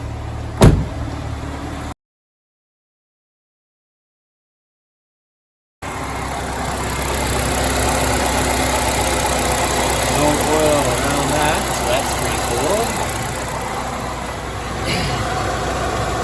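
A 2006 Chevy HHR engine idles with a steady low rumble, broken by a short silence partway through; a sharp knock sounds at the start.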